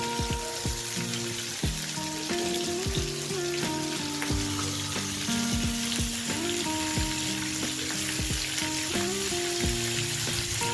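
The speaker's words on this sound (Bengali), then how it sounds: "এখন মাছটা ভাজি করে নেব।" Fish fries in oil with a continuous, close hiss and crackle, accompanied by tonal plinking notes throughout, and no voices.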